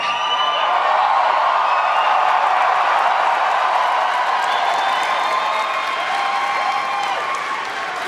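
Large convention crowd at a Star Wars Celebration event, applauding and cheering in a sustained, dense roar of clapping and voices that stays loud and steady throughout.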